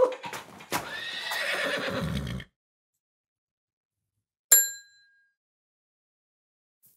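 A donkey sound effect brays loudly for over two seconds, then goes silent before a bright metallic ding rings out and fades away.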